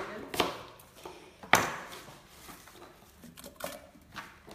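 Apples being chopped on a cutting board for homemade apple cider vinegar, a few sharp knife strikes spaced irregularly, close and moderately loud, with quiet handling noise between cuts.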